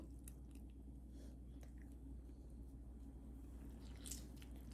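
A large lemon squeezed by hand over carrot pickle gives a steady, close-up wet squishing and crunching, continuous and fairly quiet, with no talk.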